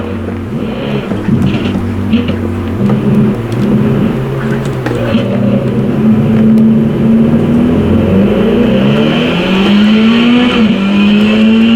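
A car engine in a racing game roars continuously on a track, its pitch climbing steadily through the gears, with faint tire noise in the mix.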